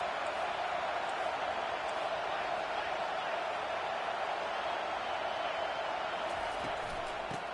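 A packed stadium crowd roars at a Clemson at Michigan State college football game as the defense lines up: a continuous, even wall of noise that holds steady throughout, with commentary voices over it.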